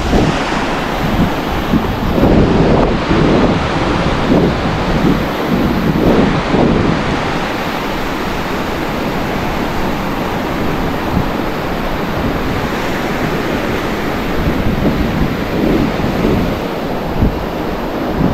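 Big surf breaks repeatedly on the shoreline, a loud sustained wash with surging crashes and heavy wind noise across the microphone.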